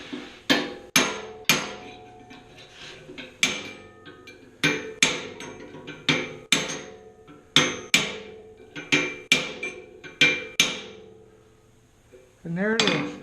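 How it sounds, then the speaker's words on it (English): A hammer peens over a rivet-like stem on a hand-forged sleigh bell, cold, with about a dozen and a half sharp, ringing metallic blows in an irregular rhythm, close and loud, ending with a brief scrape. "And all I'm doing is I'm peening that over"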